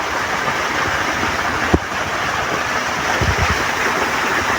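A monsoon-season waterfall at Vellarimedu roars in a loud, steady, close wash of falling water, with a brief knock partway through and no one talking.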